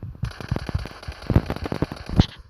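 Video game gunfire comes as a rapid string of sharp, close cracks in irregular bursts, loud and punchy, with faint ambient game noise beneath and no clear talking.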